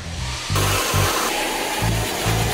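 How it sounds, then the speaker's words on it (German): A hair dryer pushed against a radiator grille blows steady, loud airflow to clear out dust, a constant rushing hiss with low background music pulsing beneath it. "Dafür müsst ihr einfach nur den Föhn am Heizungsgitter einsetzen und einschalten."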